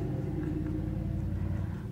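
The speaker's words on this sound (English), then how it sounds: "Another loud truck neighbor." A loud truck rolling past outside, a continuous low engine rumble and road drone that holds steady through the moment with no voices.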